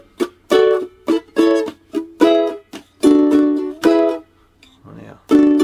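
Ukulele strumming of a song's chorus, with bright chord strums broken by short muted up-and-down strokes in a steady, choppy rhythm, played close and alone.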